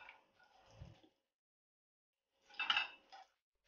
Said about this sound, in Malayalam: ഇനി നമുക്കിത് നമുക്കൊരു പാത്രത്തിലേക്ക് മാറ്റിയിടാം